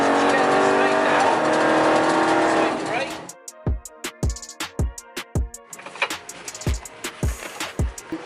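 A Jaguar XE Project 8 race car at Silverstone circuit drones loudly with a strong engine note for about three seconds, then drops back as someone talks in short phrases over the quieter car.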